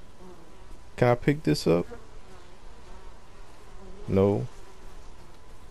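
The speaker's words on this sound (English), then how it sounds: "why are here bees?" Bees buzz in the video game Ghost of Tsushima, a steady insect drone beneath a voice as he talks at two points.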